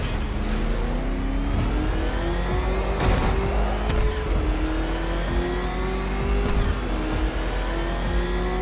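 A car engine in a Batman video game revs and accelerates loudly, its pitch climbing in repeated sweeps with brief drops between shifts, steady and close throughout.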